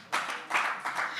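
An audience in a community dialogue room claps in a short burst of applause, with several quick, close hand claps.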